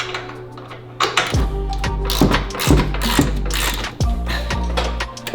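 A hand tool works a shock bolt on a Jeep, loose from its plastic guard, with a run of close, loud mechanical clicks and heavy thunks repeating over a low steady hum and no talk.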